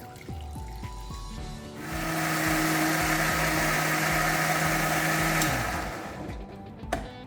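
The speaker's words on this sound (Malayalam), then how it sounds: "ആദ്യം ഒരു 1/4 ഗ്ലാസ് വെള്ളം ഒഴിച്ച് അരച്ചെടുക്കാം." A kitchen mixer grinder runs with chopped carrot and beetroot and a little water, starting with rough chopping thumps, then rising into a loud steady whine for several seconds before winding down, with a clunk at the end.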